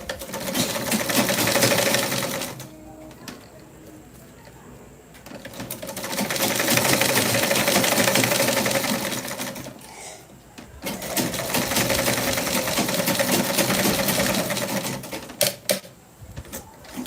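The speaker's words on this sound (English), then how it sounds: "I'm going to stretch it this way, and then I'm going to stitch." A sewing machine stitches elastic band onto a white garment in loud, steady whirring runs of rapid needle strokes, separated by short pauses, with no talking.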